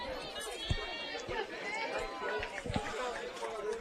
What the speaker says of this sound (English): What a great crowd here today at the ballpark.